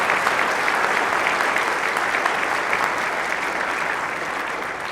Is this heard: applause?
yes